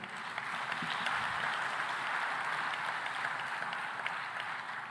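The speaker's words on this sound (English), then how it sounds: "So a warm round of applause to Tanzania for their fantastic hospitality." An audience at an African food systems forum gives warm, sustained applause, a dense, even patter of many hands at moderate distance that carries steadily throughout.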